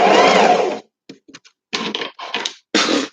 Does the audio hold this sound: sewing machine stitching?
yes